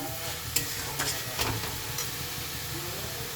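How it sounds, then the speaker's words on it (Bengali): Grated coconut with sugar and a pinch of salt is stirred in a pan for coconut naru, giving a few scraping, rustling strokes over a soft steady sizzle, close and fairly quiet. "আরেকবার লেড়ে দেবো"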